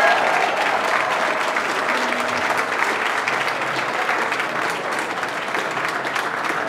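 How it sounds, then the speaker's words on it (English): A crowd claps steadily for the press at a Hollywood Walk of Fame star ceremony for Jerry Bruckheimer, outdoors, with dense, sustained applause of even loudness and faint voices mixed in. "Let's just clap for the press."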